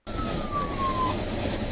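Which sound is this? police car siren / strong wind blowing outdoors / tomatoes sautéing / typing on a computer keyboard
police car siren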